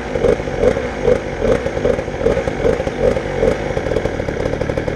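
A pocket bike engine fitted with a big bore kit revs up and down in a rapid, raspy, chainsaw-like buzz, pulsing in regular surges; loud and close, with no talking.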